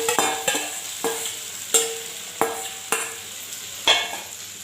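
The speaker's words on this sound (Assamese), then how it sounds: "ইয়াত তেল গৰম হৈছে। ইয়াতে মই এতিয়া চাউখিনি দি দিওঁ।" Chowmein noodles fry in hot refined oil in a pan, a steady sizzle broken by repeated clanking strikes of a spatula roughly every half second to second, close and moderately loud, without speech.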